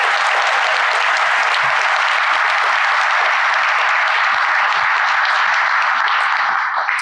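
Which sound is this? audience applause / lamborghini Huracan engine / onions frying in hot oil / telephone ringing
audience applause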